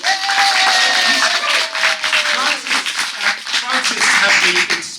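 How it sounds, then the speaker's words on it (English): Audience applause for the museum curator at a Black History Month 2020 event at the Museum of London, a steady dense wash of clapping held at full level for about five seconds, with a faint whistle-like tone sliding down early on. "actually let's give him a round of applause."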